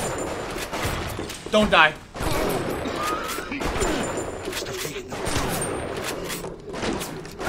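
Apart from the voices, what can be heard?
shotgun fire in the video game Bioshock Remastered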